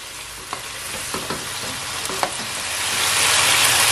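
Mushrooms sauté in a pan with a close, loud frying hiss and a few scraping stirs that swell into a stronger sizzle toward the end.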